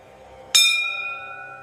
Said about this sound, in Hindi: उसने हल्के से घंटी को छुआ। पूरी मंदिर में मधुर गूंज फैल